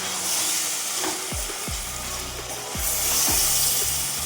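Chicken sizzling and frying with onions in a pan, a steady loud hiss with scraping stirs of a spatula every second or so, no voices.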